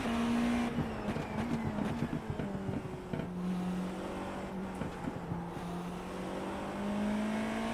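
LMP2 prototype race car in an iRacing or Le Mans Ultimate sim race, its engine droning steadily at high revs with gear shifts and shifting pitch, plus other cars nearby, continuous and close with no talking.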